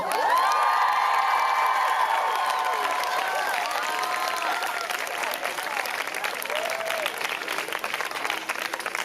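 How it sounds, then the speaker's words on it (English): An audience at a school closing convocation claps and cheers loudly and continuously, with whoops and high voices rising above sustained applause throughout. "So big cheer for Bill Brown, everyone."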